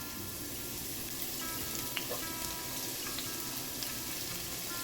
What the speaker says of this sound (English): Let that saute for a bit